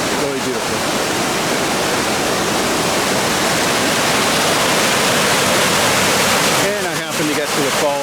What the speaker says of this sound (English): I happened to get to the falls when it was running full blast